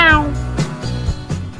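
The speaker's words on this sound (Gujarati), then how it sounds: "તારી બિલાડી." A cat gives a single drawn-out meow with a falling pitch at the start, followed by people talking loudly in a Gujarati comedy scene.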